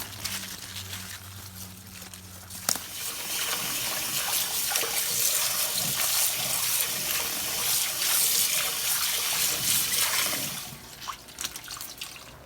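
Swiss chard and spinach rinsed under a running tap, a steady close wash of water with splashing and dripping that swells after a short quieter start and continues alone without talk.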